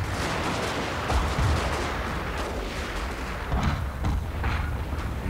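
Massed musket and cannon fire from troops in the strategy game Fall of the Samurai, a dense, continuous rumble of shots and booms at moderate loudness, with a few heavier swells.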